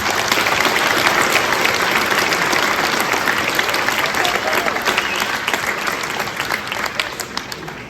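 Sustained applause from a crowd at a mayor's New Year greetings ceremony in Longpont-sur-Orge, a dense, steady clapping that fills the room for the full length and fades slightly toward the end.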